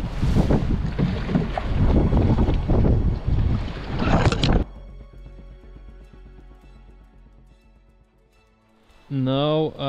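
Rough wind buffets the microphone as a rowing boat crosses the Nordic sea near a deserted island, loud and gusty for several seconds. It then drops to a quiet background, and a voice speaks briefly at the end.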